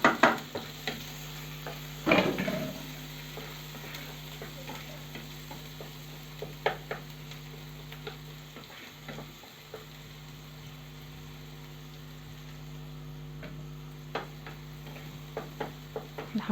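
Chopped onions sizzle steadily in hot oil and melted fat in a pan, a soft continuous crackle punctuated by scattered ticks and one louder clatter early on.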